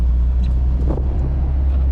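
A K24-swapped Honda Civic Si with drop-in cams, Skunk2 Alpha headers, a 3-inch Thermal R&D catback exhaust and a Skunk2 cold air intake, idling with a loud, steady low rumble and a brief rise in the middle.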